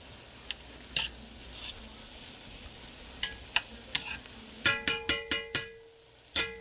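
A spoon stirs flour into chicken and vegetable pot pie filling in a metal pan, giving scattered scraping taps that turn into a rapid run of bright metallic clinks against the pan near the end, close and clear with no talking.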